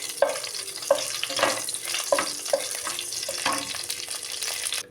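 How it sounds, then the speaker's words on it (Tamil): Whole spices (cinnamon, bay leaf, cloves, fennel, black stone flower) sizzle and crackle in hot oil, a steady hiss punctuated by short scraping bursts from stirring, close up. "கிரேவிக்கு பட்டை, பிரிஞ்சு எல்லாம், கிராம்பு, சோம்பு, கல்பாசி எல்லாத்தையும் நம்ம தாளிச்சிக்க போகிறோம்"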